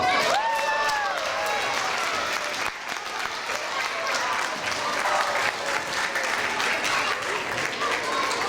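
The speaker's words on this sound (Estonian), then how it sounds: "Teeme aplausi." An audience at a charity playback show applauds dense and continuous as participating groups and classes come onto the stage, with a few voices briefly over the start.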